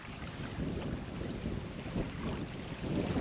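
Gusty crosswind buffets the microphone in low, uneven roars while fishing for bass off Cyprus, with a faint wash of water in the background.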